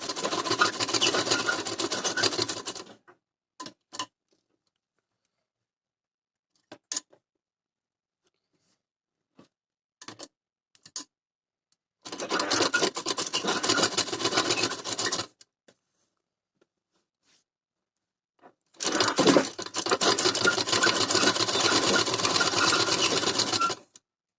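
Sewing machine stitching blouse fabric and lining, three long runs of fast, rattling, close-up stitching separated by quiet pauses with only small clicks and handling sounds between them.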